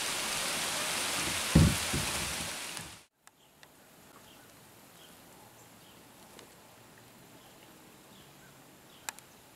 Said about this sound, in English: We got caught in a little bit of a rain storm.